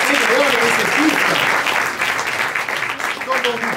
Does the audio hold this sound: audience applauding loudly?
yes